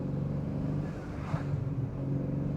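The engine of a 650 hp Manhart MH3 650 BMW M3 Touring rumbles low and steady from inside the car, with a faint airy rush midway that may be the blow-off valve.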